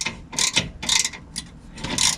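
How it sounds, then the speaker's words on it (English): A 3/8-drive ratchet wrench snugging a bolt while fitting a tow hook on a Ram 1500, four close bursts of rapid pawl clicking separated by short pauses. "I have a ratchet wrench, just a half 3/8 drive, and just so I can get this snug"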